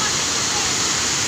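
Low waterfall at a swimming spot, a loud, constant broadband rush of falling water with no breaks or variation across the short stretch.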